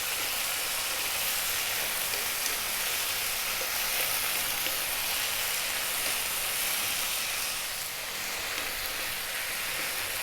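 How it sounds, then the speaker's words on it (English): Steady, loud sizzling and hissing of cabbage frying on high heat in a hot pan as added water cooks off into steam, a continuous crackle, no voices. "staying on this nice high heat until we burn that water off and it will steam"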